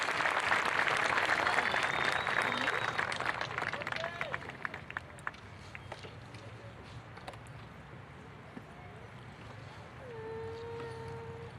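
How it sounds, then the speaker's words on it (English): A school promotion ceremony audience claps loudly as student speakers leave the stage for their classrooms, the applause tapering off after a few seconds to quiet room ambience with faint scattered sounds. "Give them one more round of applause as they return to their classrooms."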